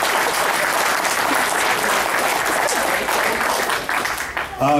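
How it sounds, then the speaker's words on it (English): A large convention audience applauds steadily and loudly, a dense wash of clapping that holds throughout before thinning slightly at the very end, at an opening ceremony. "So let's give a quick round of applause to the inner core as well."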